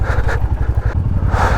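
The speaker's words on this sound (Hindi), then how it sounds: "बाइक कोल्ड स्टार्ट भी कर दिए" A motorcycle idles shortly after a cold start on a high mountain road in Ladakh, a close, loud, lumpy engine thrum with a steady pulsing beat.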